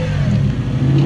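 A car engine revving at a Cars & Coffee meet: a brief, loud, close mid-pitched drone that rises slightly toward the end, with no talking.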